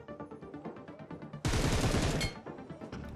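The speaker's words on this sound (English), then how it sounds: "I shot at a med kit." Automatic rifle fire, an M762 in the mobile battle-royale game PUBG Mobile, erupts as a dense loud burst of rapid shots lasting about a second over a tonal game soundtrack.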